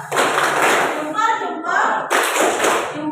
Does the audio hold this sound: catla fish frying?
no